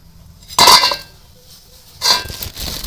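Two short bursts of crisp rattling and clinking of crunchy fried potato snack pieces being shaken or tossed, with quiet pauses between.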